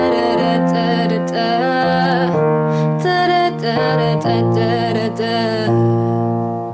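Piano plays a passage from a song at full tempo, chords shifting in a steady pop rhythm for several seconds, close and fairly loud with no talking.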